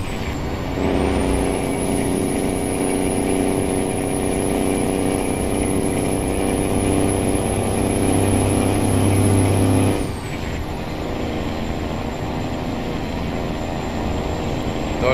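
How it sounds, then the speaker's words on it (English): A cement truck drives past in American Truck Simulator, a steady engine rumble with a high whine that drops off near the end as it moves away, heard alone. "There goes that stinking cement truck."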